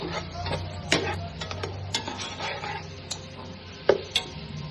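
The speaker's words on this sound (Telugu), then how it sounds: "ఒక 3 టమోటాలు బాగా కలపెట్టుకోవాలి." Green chillies and tomatoes stirred in a biryani pot, with a gentle sizzle under irregular close taps and scrapes of the spoon against the pot, a couple of sharper knocks near the end, and no talk.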